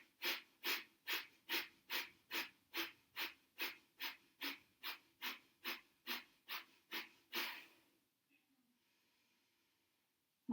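Breath of fire in yoga: about seventeen quick, forceful nasal breaths in an even, rapid rhythm, close and clear, then stopping into near silence.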